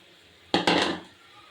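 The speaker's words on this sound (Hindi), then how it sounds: "अब इसमें हमने ऐड कर दी है भिंडी।" Okra drops into a pan of fried masala and is stirred, giving two quick clattering knocks of utensil against cookware followed by a short fading rattle, close and fairly loud.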